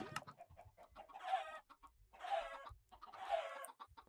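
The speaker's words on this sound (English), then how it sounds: "Putting in some adult chickens." Minecraft chickens cluck in three short, evenly spaced bursts of bird calls, fairly close and clear, with faint game ambience between them and no talking.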